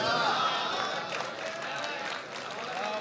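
Thin, weak applause from the audience at an Indian Republic Day kavi sammelan and mushaira poetry recital, a steady spread of scattered clapping and crowd murmur with no break.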